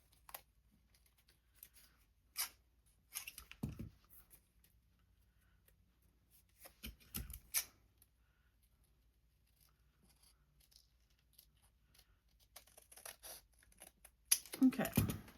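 Washi tape is snipped with scissors for a junk journal, giving a few brief, faint cuts and rustles spread across the stretch, with quiet gaps between them and a louder scraping burst near the end.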